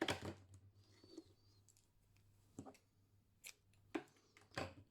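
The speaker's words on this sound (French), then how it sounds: "Je peux couper le fil." Scissors snip crochet yarn in a few quiet, sharp clicks spaced over several seconds, close and alone against a faint background hum.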